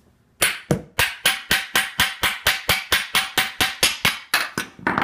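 A steady series of about fifteen sharp, hard knocks, evenly spaced and close, as a knife cuts the ends off a hard spaghetti squash on a board.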